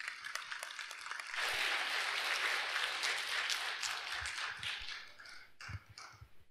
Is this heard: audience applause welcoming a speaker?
yes